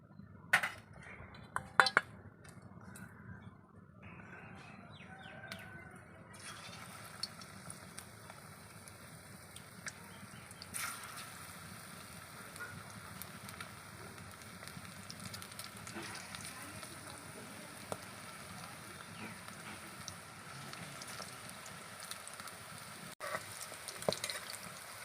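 Prawns frying in hot white oil give a steady, faint sizzling hiss throughout, with a few sharp clatters of utensils near the start.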